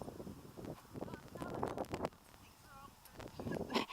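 Hooves of a young, inexperienced ridden horse clop unevenly on the ground nearby in an arena amid wind noise, with a voice speaking briefly in the background.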